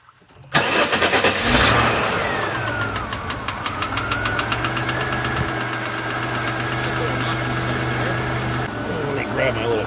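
A 1991 Chrysler TC by Maserati engine cranks and fires up, then settles into a steady, slightly uneven idle close by, with someone speaking over it.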